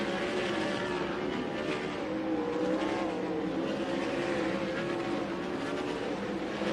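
360 winged sprint cars race at Central Arizona Raceway at night, their engines a sustained loud roar with shifting pitch as the field files out single file, heard from trackside without talk.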